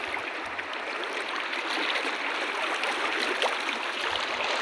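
A river rushing and splashing steadily as people wade across it, a loud continuous broadband flow heard up close with no talking.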